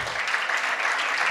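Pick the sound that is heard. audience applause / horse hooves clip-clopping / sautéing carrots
audience applause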